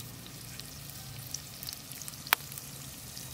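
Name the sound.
sautéing ingredients in a pan for anchovy gravy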